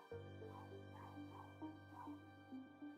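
A dog yips and whimpers in short, repeated bursts somewhere in a room, faint and a little distant over a steady electronic hum.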